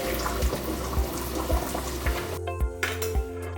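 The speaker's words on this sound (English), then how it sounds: "When they're ready, drain the pasta." Water gushes and pours steadily while cooked jumbo pasta shells are drained, with a few soft clunks along the way. Near the end the flow thins out, leaving a quieter trickle in a kitchen sink.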